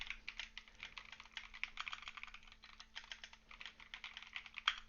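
Fingers type on a gaming keyboard, a quick, irregular stream of light key clicks, fairly close and quiet, with short pauses between bursts.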